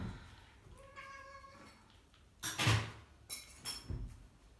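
A talkative house cat gives a short meow indoors, fairly faint, followed by thumps and knocks of movement in a quiet room.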